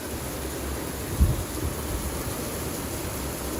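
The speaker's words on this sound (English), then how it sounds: "within a matter of minutes here at the shop, there's a torrential downpour" A torrential downpour hisses steadily at a workshop, a dense and even roar of heavy rain with a brief low thump of thunder partway through.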